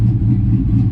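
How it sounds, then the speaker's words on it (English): A Hemi truck engine with a suspected failing camshaft idles loud and close, a deep, lumpy rumble that lasts under a second with no talking. "Oh yeah, hope you like that idle."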